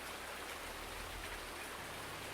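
Rain falls in the farming game Farming Simulator 19, a soft, continuous hiss of steady rainfall at low level with a faint low rumble underneath and no talking.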